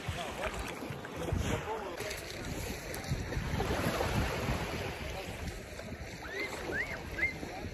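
Sea water and wind at the shore as someone heads in for a swim, a steady broadband wash of waves and wind noise, with a few brief faint voices near the end.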